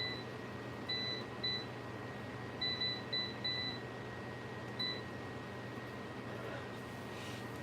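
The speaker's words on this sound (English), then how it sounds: "Let me go ahead and turn my air fryer on." Air fryer switching on, a string of short electronic beeps in quick groups over a faint steady room hum, fairly quiet and close by.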